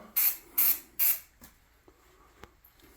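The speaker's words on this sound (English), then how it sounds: "Spray this one." Three quick, loud hissing bursts of primer sprayed from a can onto a wood knot, close up, then quiet handling noise and a faint click.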